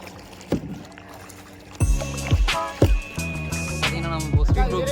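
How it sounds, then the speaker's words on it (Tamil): Speedboat ride on Rangarayana Doddi lake at Ramanagara, engine drone with rushing wind and water and repeated thumps of the hull hitting waves, loud and close. "பார்த்தீங்கன்னா நம்ம ஸ்பீட் போட் போகிறோம்."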